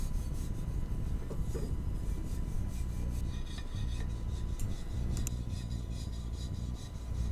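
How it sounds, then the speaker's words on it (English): A wire brush scrubs surface rust off the metal of a National electric watch-cleaning machine, a continuous harsh rasping that runs steadily throughout, close up and loud. "I'll take off the surface rust with a wire brush"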